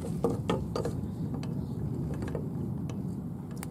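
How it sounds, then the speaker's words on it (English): Crescent wrench gripping and tightening a garden hose faucet: a few quiet metallic clicks and taps against a steady low background hum, faint and close. "And now I'm going to put a wrench on here for stability."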